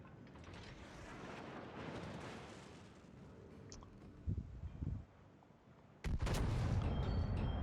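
Deep booming salvos from the French battleship Republique's main guns in World of Warships roll out over a rumbling backdrop, one heavy shot followed a couple of seconds later by a louder, sustained blast.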